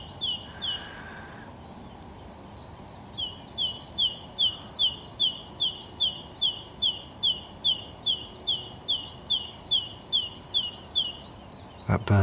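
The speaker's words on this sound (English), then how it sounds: "That bird sounds like a car alarm." At daybreak a bird repeats a fast, regular series of sharp, high chirps, loud and fairly close, after a brief opening call, with a quiet outdoor background.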